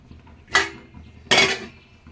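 Containers clatter in a home kitchen as children's lunch boxes are packed: two sharp, close metallic clanks about a second apart over a quiet background.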